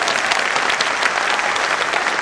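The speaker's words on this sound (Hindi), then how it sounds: "जोरदार ताली बजाइए" Loud, dense clapping from a large audience at an Amway celebration event, continuous and close, with no break across the whole stretch.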